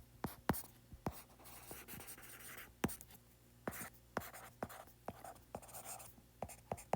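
A pen writes out a physics solution on paper, giving close, quiet scratching strokes and sharp taps in an irregular rhythm over faint background hiss.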